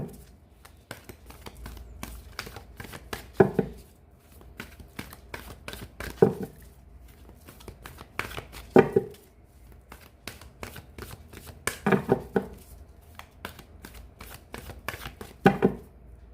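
Tarot cards being shuffled and drawn by hand during a reading, with repeated crisp riffling bursts every few seconds between softer handling and card slides, close and fairly quiet, no talking.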